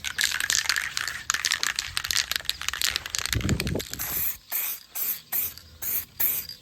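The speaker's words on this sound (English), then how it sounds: "let's spray the guide coat on my El Camino" A spray can hisses as guide coat is sprayed onto an El Camino body during a roof and doors build, a long continuous spray followed by several short rhythmic bursts, close and loud.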